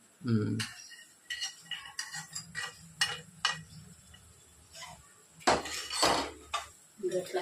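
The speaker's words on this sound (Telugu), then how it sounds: "చేపలు ఈ కూరలో కలిపేసుకోవాలి" Fried fish being stirred into a drumstick and tomato curry in a pot, with a metal spoon scraping and clinking against the pan in irregular bursts and a voice briefly audible in the background.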